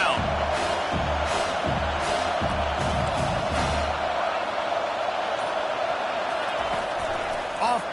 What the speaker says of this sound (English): Decibels rising as the crowd gets behind this defense on third down.